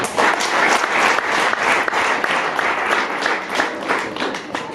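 Wedding audience clapping together in a sustained, dense round of applause that holds steady throughout, close and loud with no clear speech over it.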